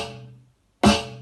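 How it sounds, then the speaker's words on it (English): One sharp snare drum hit cracks out after a brief silence, bright and snappy with a quick, rattling decay. "Then you've got your snare drum"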